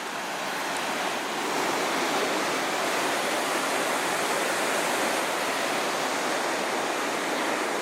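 The Little Qualicum River rushes steadily, a dense and unbroken roar of flowing water that holds at constant loudness for nearly eight seconds with no voices.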